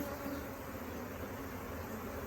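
Honey bees buzzing close by as a package is installed into a top bar hive with a dead queen, a steady, dense hum of many wings that stays level throughout.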